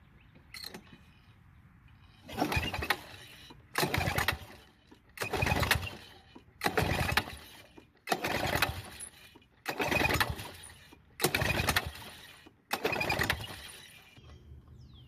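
A Toro commercial lawnmower engine being pulled over again and again, eight loud rasping cranking bursts in a steady rhythm, each about a second long, close by and never catching.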